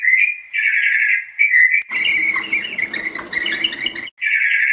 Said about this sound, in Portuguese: Excelente! Um pássaro.